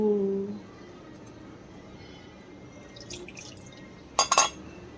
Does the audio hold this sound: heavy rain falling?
no